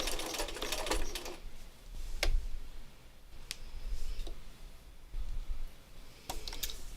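A sewing machine runs in short bursts of rapid mechanical clatter while sewing a narrow zigzag stitch, with brief pauses and sharp clicks between runs, close and moderately loud.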